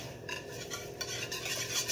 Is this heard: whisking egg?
yes